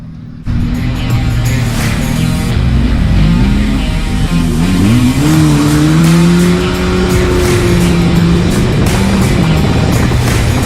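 Race cars roar out for the first heat at Cowdenbeath Racewall, their engines loud and continuous with rising and falling revs as they sweep past. No voices are heard.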